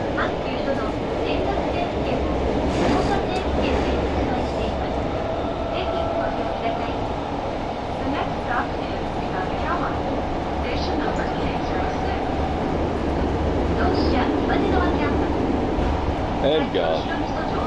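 Steady low rumble and rattle of a moving subway train in Kyoto, loud and continuous throughout, with people talking faintly over it.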